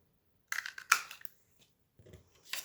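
Scissors snip little notches into paper scraps in two short bursts of crisp cutting with a pause between, close and fairly quiet.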